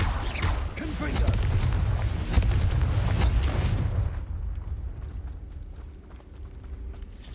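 Hogwarts Legacy's Confringo blasting spell lands as a booming, crackling explosion that sustains for a few seconds, then drops away sharply to quieter game ambience, with speech faintly present.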